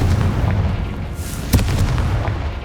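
A Confringo explosion spell in a Harry Potter video game, a dull booming rumble topped by a sharp crack midway, followed by more low rumbling.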